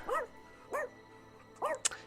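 Three short barks from a dog in the video game Rainswept, evenly spaced about every three quarters of a second at moderate loudness, ending with a sharp brief click.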